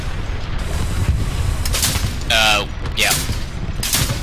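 Heavy tank gunfire in Hell Let Loose comes as a few loud, sharp bursts with echoing tails over constant battlefield rumble, while someone speaks briefly.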